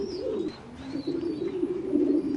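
Coburg Lark pigeons cooing in a loft, soft repeated low coos in short throaty bursts, close and fairly quiet, with faint chirps in the background.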